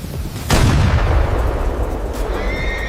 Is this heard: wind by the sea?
no